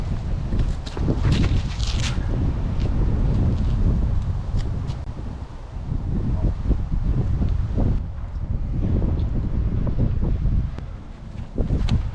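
Strong wind buffets the microphone in an open field in a loud, continuous low roar with gusty surges and brief lulls, along with faint rustling and scuffing.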